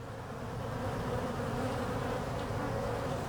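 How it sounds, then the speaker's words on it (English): A dense swarm of bees crowds a wall during a bee removal in Denver, Colorado. Their steady, close, loud buzzing drone fills every moment, unbroken and without speech. "There are so many bees climbing on the lens, I can't get a picture of the comb."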